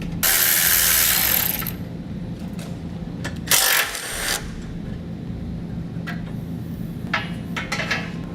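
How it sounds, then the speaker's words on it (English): Ratchet with a 12mm socket clicking as it turns the bumper beam bolts on a 2012 Honda CR-V, starting with a long rapid burst of ratcheting, then a sharp metallic clunk and several short scattered clicks close by. "We'll do this with a 12mm socket."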